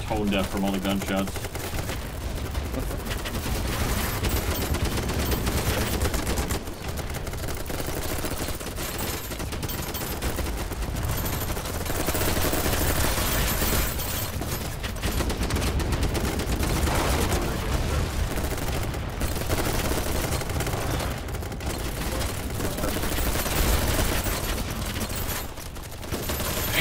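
Dense, continuous gunfire from BattleBit Remastered, with rapid automatic bursts and overlapping shots filling the whole stretch and a voice talking intermittently over the barrage.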